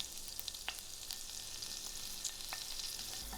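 Black dhal frying in hot oil while making coconut chutney, a continuous bright crackling sizzle with small pops, steady and close throughout with no voices.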